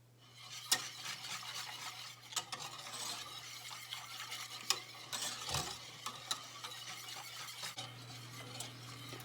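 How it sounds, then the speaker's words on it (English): Custard cooks in a pot while a spoon or whisk stirs constantly, giving faint scraping taps and a soft bubbling hiss over a low steady hum, quiet and close. "And now let's cook our custard. And make sure you constantly mix it."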